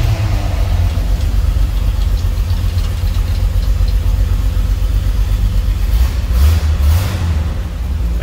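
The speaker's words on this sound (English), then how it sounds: "Let's go ahead and fire this up. Let you hear it run." A pickup truck's 250 inline-six with a 4-speed manual runs shortly after a cold start, a loud, steady low rumble with an uneven pulse and a brief swell near the end, no talk over it.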